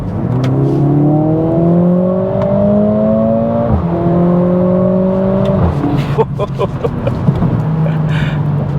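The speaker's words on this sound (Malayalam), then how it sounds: "അതിനു മുമ്പ് let's here it from this engine." Mercedes-AMG A45 S engine revs loud and close, its tone sweeping upward in several long climbs with short drops between, followed by rougher, choppier engine noise toward the end.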